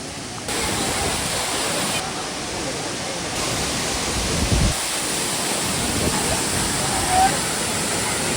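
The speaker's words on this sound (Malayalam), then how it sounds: "അവിടെ കാലിപ്പുറമ്പിന്റെ അടുത്തുള്ളൊരു വെള്ളച്ചാട്ടാണ് കാരക്കൊണ്ട് വെള്ളച്ചാട്ടം" Karakund waterfall in Kannur rushes with a dense, continuous roar of falling water that fills the whole span at a steady loudness, broken only by a few faint bumps.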